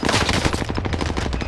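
Rapid automatic gunfire from a video game firefight, a dense burst of closely spaced shots filling the whole moment, loud and continuous with no talk over it.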